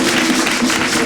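Studio audience applause on a French-language radio-television aperitif show, a steady dense clapping that holds at even loudness throughout, with no voices over it.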